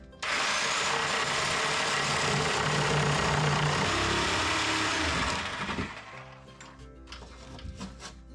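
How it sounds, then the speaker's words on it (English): A reciprocating saw cutting through a piece in a workshop, a loud continuous buzzing, rasping cut for about five seconds, then it winds down into quieter clatter and handling sounds. "I'm going to use this recip saw"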